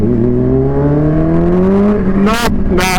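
Supercharged stage 3 Kawasaki Ninja H2 motorcycle accelerating hard, a loud close engine note rising steadily in pitch for two seconds, then two short bursts of higher whining rev near the end.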